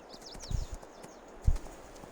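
Horse hooves in Farming Simulator 22 clip-clop in two short clusters about a second apart, soft and muffled with a faint bird chirp in the background.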